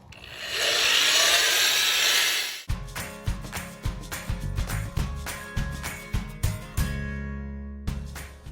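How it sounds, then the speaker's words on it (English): A steady, loud grinding whir of a sanding disc on a wet car headlight for a few seconds, then stops; afterward a string of irregular taps, knocks and clinks with a faint ringing tone. "we finished sanding with that last gray disc"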